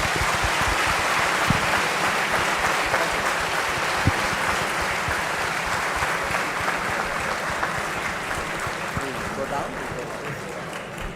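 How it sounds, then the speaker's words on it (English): A large audience gives sustained warm applause for Dr S. Jaishankar at the Shaastra 2026 inauguration at IIT Madras, dense even clapping that eases slightly toward the end, with some speech mixed in. "please join me in a warm round of applause for Dr."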